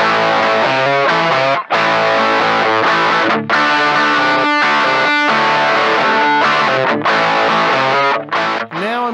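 Electric guitar played through a Joyo Oxford Sound overdrive pedal with the drive set at noon, loud crunchy distorted chords and riffs ringing continuously with a few brief gaps between phrases.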